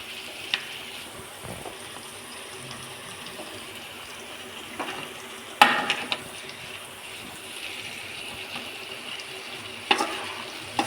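Broad beans being stirred as they fry in a pan, giving a steady low sizzle with occasional scraping clicks from the spoon, close and continuous without talk.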